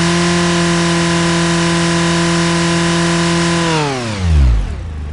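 A car engine holds a steady high rev on a fuel-system test setup, then winds down sharply as it is released and shut off, loud and close with no talk.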